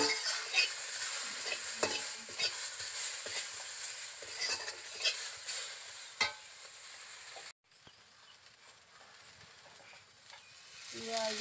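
Onion oil frying in a pan while rohu fish curry cooks, a continuous bright sizzle with scattered crackles and stirring scrapes, broken by a brief dropout before the hiss resumes more quietly.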